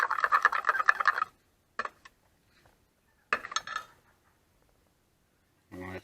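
Glitter is stirred into soft plastic for swimbaits, with bursts of scraping and clinking against a container separated by short silences, close by.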